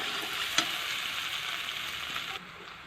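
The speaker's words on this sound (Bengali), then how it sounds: "মশলাটাকে বেশ ভাজা ভাজা করে নিলাম আলুর সঙ্গে।" Potato pieces fry with spices in a pan, giving a steady, close sizzle with brief scraping stirs and a few clacks of the utensil.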